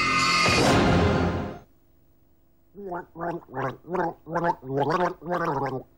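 Gargling with TCP antiseptic liquid in a television advert: a loud burst of throat gargling opens, then after a brief pause comes a run of seven rhythmic bubbling gargle pulses, close and clear.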